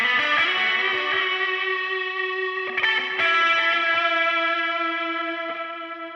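Distorted electric guitar runs through a delay pedal placed before reverb, sustained chords ringing with echoing repeats and a wide ambient tail, a few strums restarting the sound before it slowly fades, played alone.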